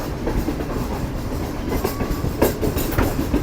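The Green Line train runs past Chaklala station in Rawalpindi with a steady rumble, rolling rail noise and a few sharp clacks of the wheels, loud and continuous throughout.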